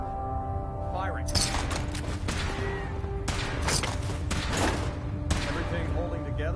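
A powered-suit weapon test in a video game fires several loud, booming shots in bursts, with brief gaps between volleys and faint game voices underneath.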